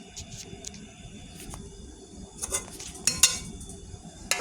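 A spoon scrapes and clinks against a bowl while chicken filling for bread pockets is mixed, giving soft, irregular taps and a few brighter clinks up close.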